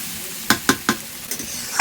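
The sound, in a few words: water added to frying spiced potatoes, sizzling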